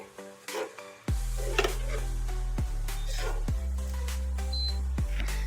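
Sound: okra masala being stirred and fried in a pan after adding curd

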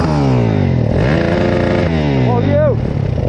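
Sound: road traffic, cars and motorcycles

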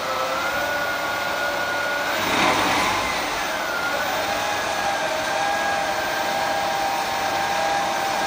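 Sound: gearbox test stand running

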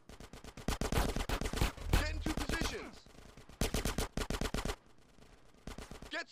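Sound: machine gun suppressing fire in a video game

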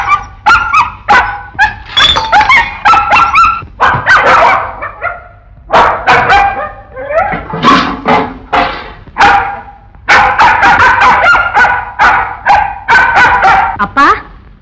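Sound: dog barking

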